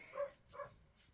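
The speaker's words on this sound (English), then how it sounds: "sorry for the barking dogs" Two quick, faint barks from dogs heard at a distance, spaced about half a second apart against a quiet background.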